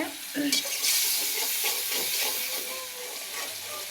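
Spice paste for fish curry sautéing in a pan, a close crackling sizzle with a few stirring scrapes, fairly loud and steady over a few seconds.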